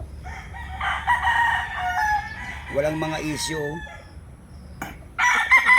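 Gamefowl roosters crow at a game farm in Tanauan City, Batangas: one loud nearby crow with others farther off and some clucking, while someone speaks briefly.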